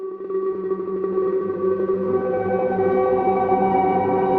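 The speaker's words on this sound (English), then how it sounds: "let's drag a flute sample over here" A sustained, breathy flute tone with stacked harmonics, run through a granular synthesizer and smeared into a shimmering, slowly evolving drone with a grainy, textured quality.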